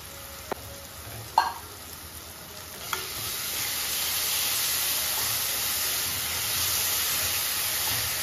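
Mint leaves and green peas sauté in a pan over a low flame, giving a steady soft sizzle with a few clinks of a spoon stirring against the metal near the start.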